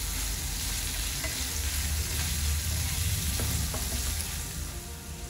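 Potatoes frying in oil in a pan, cooking over a medium flame: a dense, unbroken hiss of sizzling oil with a low rumble underneath and faint scraping, steady and close, without speech.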